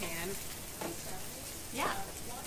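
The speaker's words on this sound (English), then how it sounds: "I'm going to add a tiny bit more oil into my pan." A pan of oil sizzles softly during okonomiyaki cooking, a low, steady hiss with a few brief scraping or stirring touches, fairly faint overall.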